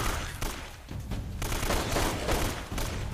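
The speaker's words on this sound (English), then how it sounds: "I'm gonna shoot Eddie by accident." Rapid gunfire in Uncharted: Drake's Fortune, several bursts of shots fired in quick succession during a fight against zombies, loud and close across the whole stretch with no speech over it.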